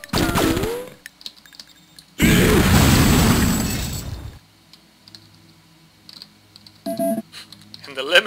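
Explosions in the Shadow Warrior video game, set in the Alliz Town level: a loud blast at the start, then a roaring burst lasting about two seconds, followed by quieter clicks, scattered debris and a few more pops.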